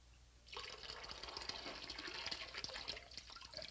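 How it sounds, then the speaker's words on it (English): Water gushing steadily into a hose being filled for siphoning, a close, continuous splashing flow that starts abruptly and keeps running. "I'm going to fill this hose."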